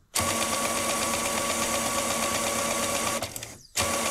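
A Brother MFC-5460CN inkjet printer runs a head cleaning cycle, giving a loud, steady mechanical whir and buzz with a brief dip and a short pause near the end before the motor starts again.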